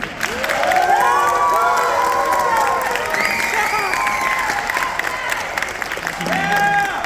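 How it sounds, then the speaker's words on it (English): Audience at an all-district jazz band concert claps and cheers, a loud sustained wash of applause with whoops and shouts rising above it throughout. "Now it's your time to applause, everybody."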